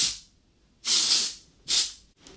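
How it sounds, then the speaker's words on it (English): Texture finishing spray hisses from an aerosol can in three short bursts: a fading spray at the start, then a longer full blast and a shorter one, each a bright rushing hiss close to the microphone. "Of course, proper full-on spray."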